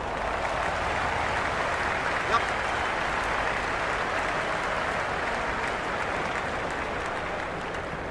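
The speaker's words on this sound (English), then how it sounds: "Excellent crowd in this morning, a lovely atmosphere to go with the occasion." Steady broadband crowd applause and murmur in the Cricket 26 video game during an India vs South Africa Test match, a continuous even wash of clapping filling the whole stretch with no clear breaks.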